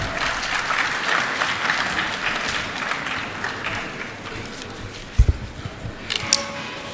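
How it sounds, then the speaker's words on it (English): Audience at the valedictory session of a national legal conference on mediation applauds, sustained and dense clapping from a large room that thins out toward the end, with a few louder bumps and knocks near the close. "Please give him a big round of applause."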